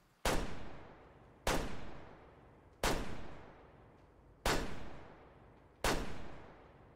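Five loud shotgun blasts fired in the hunting game Way of the Hunter, spaced roughly a second and a half apart, each a sharp crack followed by a short decaying tail, with no talking.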